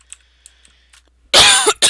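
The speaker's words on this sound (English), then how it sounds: "I am majorly sorry about that coughing" A loud, harsh cough bursts out after a near-silent stretch, then a second cough follows close behind.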